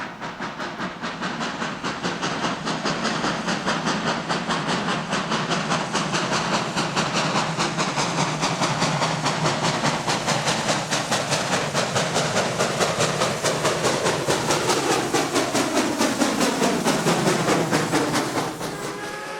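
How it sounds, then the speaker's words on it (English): T&P 316 steam locomotive of the Texas State Railroad working hard up the roughly 2.5% grade of Fairchild Hill, giving a loud, steady roar of rapid exhaust and hissing steam that carries unbroken for the whole stretch. "T&P 316 descends the eastern slope of Fairchild Hill."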